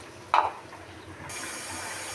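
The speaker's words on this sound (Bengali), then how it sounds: "এখন আমি ঝোলের জন্য পানি দিয়ে দেব।" Water poured into a pan of potato curry to make gravy: a brief splash, then a soft steady stream of running water, fairly close and faint.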